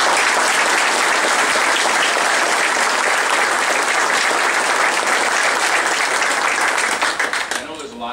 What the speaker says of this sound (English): I'd love to give them a round of applause